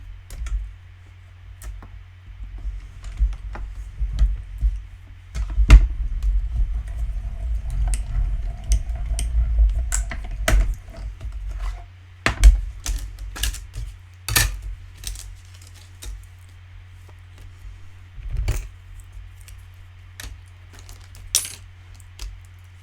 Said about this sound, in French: Voilà, je vais déjà découper ça.